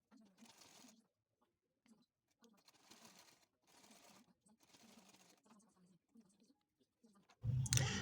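A sewing machine stitches a tote bag handle in several short whirring runs separated by pauses, close and fairly quiet, with a louder, rougher burst at the very end.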